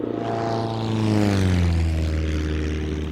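A propeller aircraft drones loudly and steadily overhead, its engine pitch sliding gradually downward as it passes.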